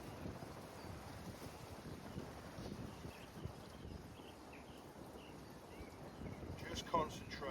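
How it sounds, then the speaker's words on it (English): Strong, steady wind buffets the microphone on an open golf course at Close House, a continuous low rushing roar with gusts that swell near the end, heard alone without talk. "It's 2 club wind, as you can probably hear,"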